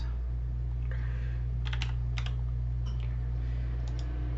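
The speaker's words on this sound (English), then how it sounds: "I'm just going to type in two users" Short bursts of computer keyboard typing, a few clustered keystroke groups spread through the clip, heard faintly over a steady low electrical hum with no talking.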